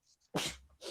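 A single sudden sneeze bursts out close and fairly loud, preceded by a short breathy intake, during a casual basketball chat, with no talk over it.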